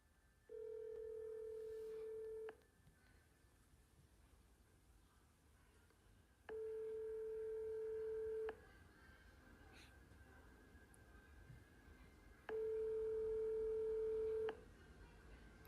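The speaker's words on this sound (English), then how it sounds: "listen to where this phone number goes to when you call this childcare center" An outgoing phone call to a childcare center's number in Minneapolis, Minnesota: three long, even ringing tones about two seconds each, separated by quiet pauses, faint over a low hiss, with no voices.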